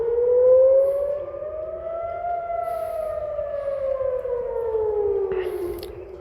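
A civil defense air raid siren sounds during a rocket attack in Israel, its single steady wail slowly rising and then falling, heard from a distance over a quiet outdoor background and carrying on throughout.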